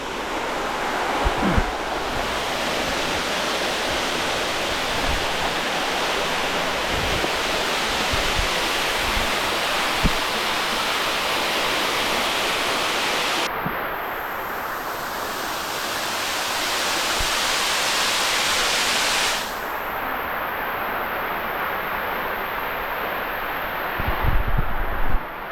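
A hidden waterfall, heard from the top of a climb up ropes to a secret spot, roars in a steady, dense, loud rush that carries on unbroken throughout, with some wind buffeting the microphone.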